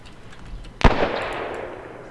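A single sharp gunshot in ArmA 3 with the Faces of War mod, set in a Japan versus US battle, loud and close, followed by a long fading echo over quiet ambience.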